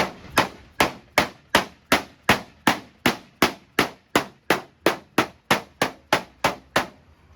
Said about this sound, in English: you hammer it straight whenever it gets wadded up